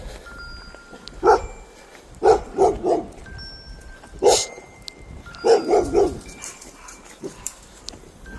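Several dogs bark outdoors in a residential neighborhood, loud and fairly close, in short bursts of two to four yaps with pauses between, plus a few fainter yips.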